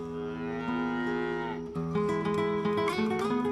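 Cattle lowing on a ranch in Jalisco, Mexico, with long, steady, droning moos that overlap and shift pitch partway through, sounding close and fairly loud, and no talking.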